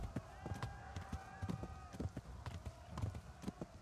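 A horse gallops in the video game Kingdom Come: Deliverance, a quick, rhythmic run of hoofbeats, fairly faint under someone talking.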